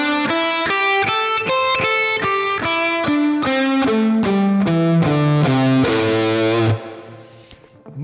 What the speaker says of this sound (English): Now the problem is when you play with distortion